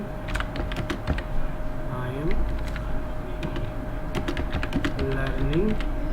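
Keys clatter on a computer keyboard as Python code is typed, a quick, irregular run of close clicks and taps with a voice talking underneath.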